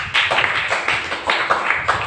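A church congregation claps together for Jesus at a Swahili-language service, a dense, steady patter of many hands with rhythmic swells, close and loud, with no talking over it.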